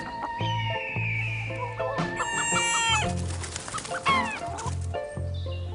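Chickens in a flock cluck repeatedly at close range while a rooster crows loudly over them, with overlapping calls and a second crow near the end; no talking.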